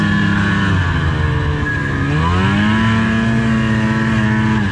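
A snowmobile engine runs loudly nearby, its pitch dipping then climbing as the throttle changes, a continuous mechanical drone with no voices.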